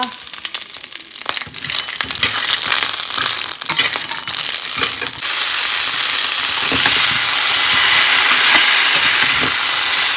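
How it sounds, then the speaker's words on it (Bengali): Pumpkin, potato and vegetable stalks fry in a pan, a steady loud sizzle with sharp crackles and stirring clatter in the first half, settling into a dense, even hiss that builds toward the end with no voices. "কুমড়ো আলু ডাটা একটুখানি ভাজা করে নিচ্ছি"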